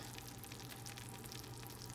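Baked cauliflower cheese bubbles hot from the oven, a faint steady sizzle and pop with no talking over it.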